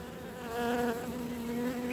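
Honey bees buzz steadily and loudly around an open hive being worked during the chestnut bloom, a dense, continuous hum that swells slightly in agitation with no talk.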